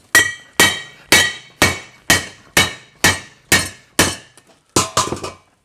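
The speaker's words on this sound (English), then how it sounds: "If I hit this with a hammer, it'll eventually crack." Hammer striking cracked die-cast metal scrap during a junk-removal scrapping job: nine sharp, ringing metallic blows at an even pace, then a quicker cluster of clinking hits, close and loud.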